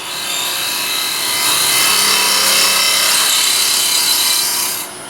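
A lathe tool cuts into spinning wood while turning a lidded ring box, a loud steady hissing shear that holds constant for several seconds before dropping away near the end.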